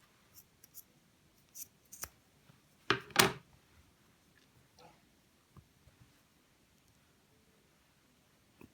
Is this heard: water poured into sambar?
no